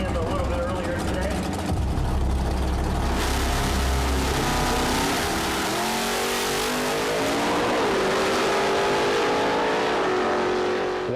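Drag racing car engine roaring down the strip, a loud, continuous accelerating engine note with rising and shifting pitch over crowd and track noise.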